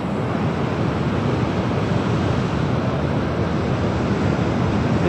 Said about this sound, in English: The Atlantic Ocean on the west coast of France.